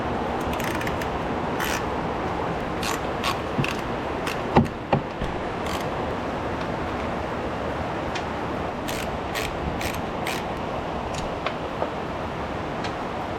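Hand work on a cheap zero-turn mower as its fuel pump comes out: sparse small metallic clicks and taps, spaced irregularly, over a steady low background hiss with no talking.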